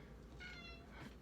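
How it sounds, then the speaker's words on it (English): A house cat gives a single short meow, faint and a little distant, over low background hum, with no talking. "that's my cat, she said hi."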